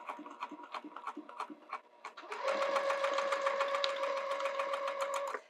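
A sewing machine stitches D-ring attachment pieces on a bag, starting with slow, separate clicking stitches and then running into a fast, steady, whirring stitch rhythm, close and clear with no talk.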